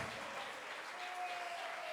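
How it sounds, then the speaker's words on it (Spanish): A church congregation claps in praise during a service, a dense, continuous wash of many hands at a steady, moderate level with no voices standing out. "Dele palmas de alabanza."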